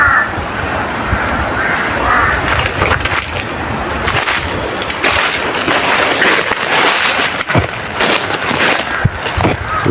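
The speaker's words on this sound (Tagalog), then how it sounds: "Sumubay pa ang mga uwak dito." Crows caw repeatedly outdoors, their calls standing out above constant crunching and snapping of wood or debris nearby.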